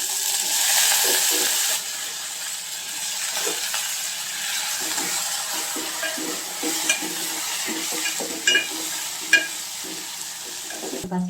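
Lentils and ridge gourd pieces frying in a pan for a dal, a soft continuous sizzle under frequent scraping stirs and a few sharper clinks of the spoon against the pan, close and moderately quiet.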